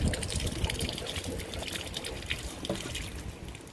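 Water drains from a Porsche Cabriolet's rain drain hole, trickling and splashing steadily nearby, a soft continuous flow with occasional small drips, fairly quiet.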